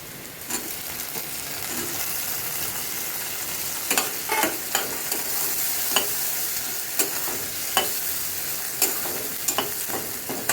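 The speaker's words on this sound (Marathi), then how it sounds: "हे वाटण त्याच्यामध्ये टाकलेलं आहे. ते छान भाजून घेऊया. छान भाजतं आहे." A paste fries with a continuous sizzle in a pan, punctuated by sharp scraping clicks of a spoon stirring at irregular intervals.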